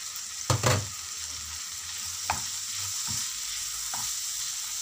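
A filling of mashed coriander and sliced olives is stirred in a pan over a low, steady sizzle, broken by a few sharp scrapes of the spoon against the pan.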